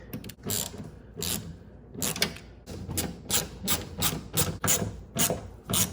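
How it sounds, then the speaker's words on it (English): Ratcheting socket wrench tightening the mounting nuts on a replacement Toyota Corolla side mirror, with repeated bursts of clicking strokes in a steady rhythm, close and fairly loud, no talking. "Once you get all 3 nuts back on, just tighten them down with the socket."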